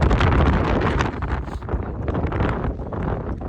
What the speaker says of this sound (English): sorry if the wind is blowing too much.